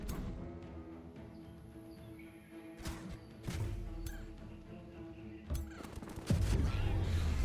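Fantasy battle in the strategy game Age of Wonders 4, with bursts of blasting and impact hits cracking over a low rumbling backdrop, several sharp strikes spaced irregularly and growing heavier toward the end.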